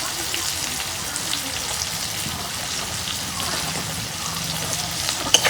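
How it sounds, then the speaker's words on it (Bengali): Spices with chopped green chilli, turmeric, salt and chilli powder frying in a pan for a fish, cauliflower and potato dish, giving a steady, close, even sizzle throughout with no talk. "মশলাগুলা কষে নিব।"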